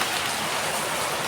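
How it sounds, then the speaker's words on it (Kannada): A short burst of heavy rain pours down nearby as a loud, unbroken wash of drumming water on surfaces, with no voices. "ಬಟ್ ಶಿವಮೊಗ್ಗದಲ್ಲಿ ನೋಡ್ರಿ ಎಷ್ಟು ಜೋರಾಗಿ ಬರ್ತಾ ಇದೆ ಮಳೆ."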